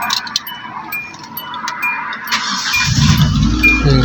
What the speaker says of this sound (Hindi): अभी गाड़ी को स्टार्ट करते हैं साथ में, फिर आगे देखते हैं क्या बनता है